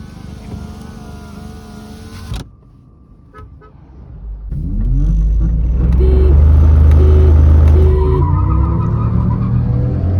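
A car launches hard in a drag race against a Volkswagen Virtus, with the engine revving up loudly, falling briefly quiet at a shift, then climbing again into a sustained roaring pull with rising tones.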